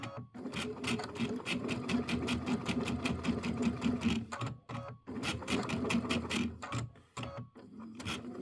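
A Luminaire sewing machine stitches along a marked line, its rapid mechanical chatter close and steady, pausing briefly twice before carrying on.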